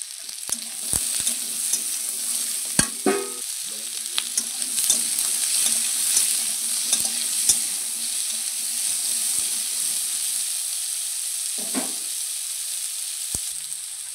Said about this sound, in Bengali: তো দেখো আলুটা আমি ভালো করে ভেজে নিচ্ছি।